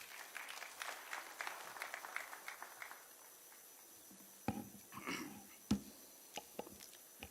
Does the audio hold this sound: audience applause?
yes